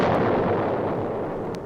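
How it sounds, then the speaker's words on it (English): A ship blown apart by a gunpowder charge lit by fuse produces a loud, dense, continuous roaring blast that fades slightly over a couple of seconds. "There was a big explosion."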